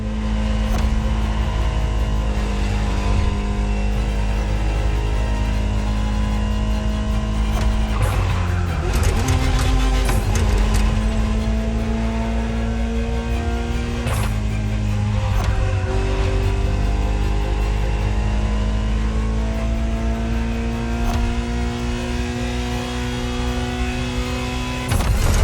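A Ferrari supercar engine in a racing video game drones and revs continuously, pitch rising and falling with gear changes, with brief tire squeal and a louder burst midway.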